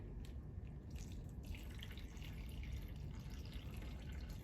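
Water trickling and dripping from pencil-punctured holes in a plastic bag during a kids' science experiment, a steady soft patter with faint drips, fairly quiet and continuous with no talking.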